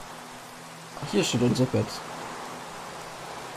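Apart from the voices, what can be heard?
rain in Minecraft video game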